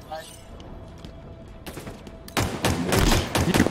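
Battle rifle gunfire in Halo Infinite, with a quieter stretch giving way to several loud, dense bursts of shots and impacts near the end, against game background noise.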